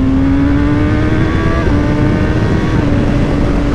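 Kawasaki ZX6R sport motorcycle with its catalytic converter removed and a 2-inch exhaust, engine running steadily at a loud, continuous idle-to-rev drone with strong harmonics, close to the bike, no talking.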